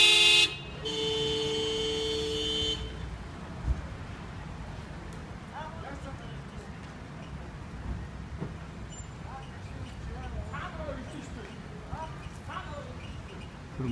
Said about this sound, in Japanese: すごい渋滞してます。 車が動きません。